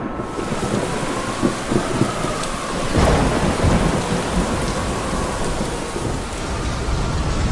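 Heavy rain pours steadily in a thunderstorm, with a deep rolling thunder rumble building midway, dense hiss throughout and no voices.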